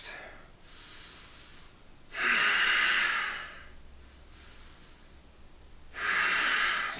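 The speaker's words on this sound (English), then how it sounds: "Keep that deep breathing going." Deep breathing during a gentle floor yoga routine: two strong, close, breathy exhalations, each lasting about a second, separated by quieter breaths and soft room noise.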